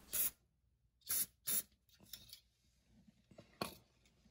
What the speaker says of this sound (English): I like to spray a little brake clean on there